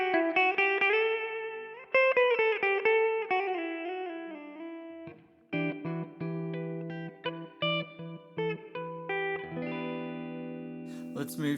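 Electric guitar through an Overloud vintage amp simulation set to its series mode, with ringing chords and single notes in bursts separated by short gaps, moderately loud with a bright edge at the end.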